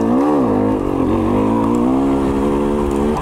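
A KTM 300 XC-W two-stroke dirt bike engine pulls steadily while riding in second gear, a loud, continuous buzzing drone with slight pitch wavering, close and alone with no talk.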